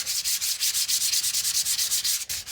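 Sandpaper scrubs back and forth over filled interior woodwork in quick, even strokes, a loud close rasping hiss repeating about six times a second with no voices.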